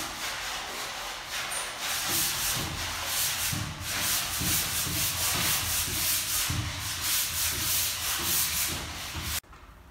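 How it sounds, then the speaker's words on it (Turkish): Steady rhythmic scraping of sandpaper rubbed back and forth over a plastered surface, close and continuous, stopping abruptly near the end. "yüzeyi düzeltmek amacıyla yapılan bir uygulama bu zımpara"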